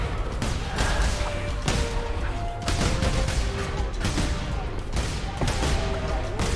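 Repeated bursting pops from exploding enemies in the video game Cult of the Lamb, coming in quick successive blasts over steady combat noise, loud and close.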